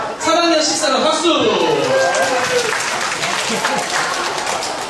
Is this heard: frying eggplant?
no